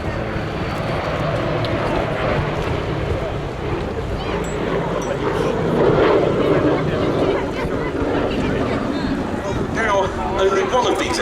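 Sally B, a B-17 bomber, flies past at an air festival, a steady broad engine drone with wind buffeting the microphone while a commentator talks over it throughout.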